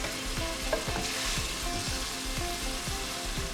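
Tomatoes from a whole tin hit a hot frying pan in a chicken and fenugreek curry, giving a steady close sizzle with rhythmic stirring scrapes repeating throughout.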